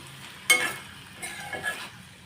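Pepper chicken with curry leaves being stirred in a pan, a sharp scrape and sizzle burst near the start, then two softer stirring swishes over a low background hum.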